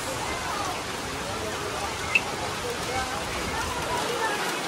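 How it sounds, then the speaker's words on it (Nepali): Steady rain patters down over a broad, even hiss, with a single brief tap standing out near the middle. "यता चाहिँ पानी पर्दैछ"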